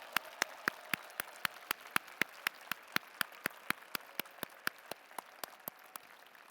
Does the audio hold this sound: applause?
yes